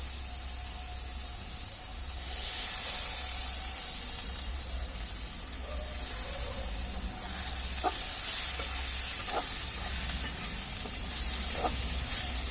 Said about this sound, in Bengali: একই তেলে, সেই মাছ ভাজার তেলেই আমি পেঁয়াজ দিয়ে দিচ্ছি।